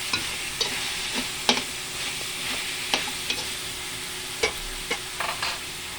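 Pork humba, softened with star anise, garlic and soy sauce, sautés in a pan with a steady sizzle and repeated clacks and scrapes of a spatula, close and clear, without talk.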